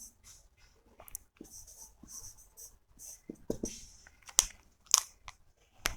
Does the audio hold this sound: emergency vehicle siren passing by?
no